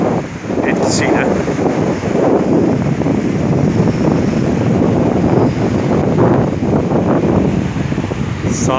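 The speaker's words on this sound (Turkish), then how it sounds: "sahilin köpürmüş dalgaları yine şiddetini bir ara düşürdü." An autumn storm pushes strong wind and foaming sea waves onto Marmaris beach in Türkiye, with palm trees along the shore. A dense, continuous roar of wind and surf fills the whole stretch.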